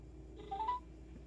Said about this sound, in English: Let's try to call this number.